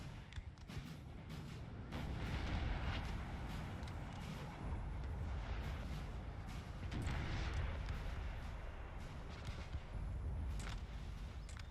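Russian artillery fires in Napoleon: Total War, with 12-pounder cannons and howitzers in action. Distant booms and rumbling volleys blend into a continuous battlefield din.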